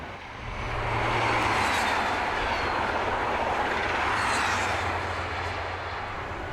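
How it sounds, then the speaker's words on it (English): A Shinkansen measurement train, Dr. Yellow, rushes past fast with a broad, roaring whoosh that swells, holds for several seconds, then slowly eases off. "This is the new measurement train"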